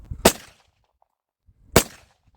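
Two loud, sharp bangs about one and a half seconds apart from a Retay G19C blank pistol fired close by, each with a short decaying tail and near silence between.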